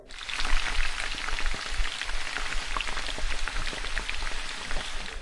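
Cumin seeds frying in hot oil in a kadai give a steady, dense sizzle with fine crackles, close and continuous throughout without any talk.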